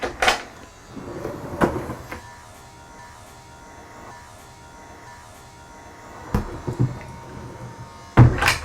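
A large cabinet door in the rear galley of a Nordship 420 DS camper van opens and closes, giving a few sharp knocks and clunks with soft rattles in between against a quiet, faintly humming interior.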